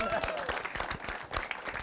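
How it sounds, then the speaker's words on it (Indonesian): A studio audience at a comedy variety show claps in a brief burst of quick, dense applause while voices carry on over it. "Ya udah beri tepuk tangan."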